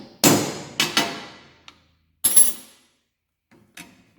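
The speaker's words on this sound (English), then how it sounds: "Put our center punch in and hit it." Hammer blows on a center punch set against a metal plate while fitting a Ram Mounts dash accessory rail in a Jeep JL: three sharp metallic strikes close together, a pause, a fourth ringing hit, then faint taps, with no talk.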